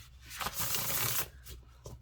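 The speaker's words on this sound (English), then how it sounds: "bless them and shuffle them up a couple of times" Cards of a Sacred Wisdom Keeper of Bees tarot deck by Kelly Barton are shuffled in one steady riffling burst of about a second, close and crisp, with softer card handling before and after.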